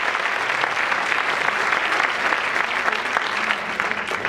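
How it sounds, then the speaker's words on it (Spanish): Strong, sustained applause from an audience at a women's council inter-association event, a dense continuous roar of many clapping hands with no pause. "para las mujeres del Consejo Local vamos a darles un fuerte aplauso de ánimo desde aquí"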